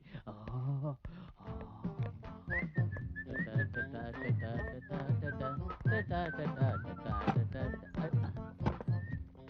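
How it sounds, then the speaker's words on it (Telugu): A whistle sounds in a Telugu film scene, a sustained wavering tone running over busy clattering and background activity. "మోగింది, ఈల మోగింది."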